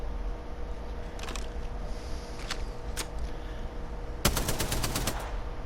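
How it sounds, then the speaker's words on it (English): Spitfire machine gun in a shooting video game: a few scattered single shots early on, then a rapid close burst of automatic fire near the end. "Not managing to connect that well with some Spitfire rounds"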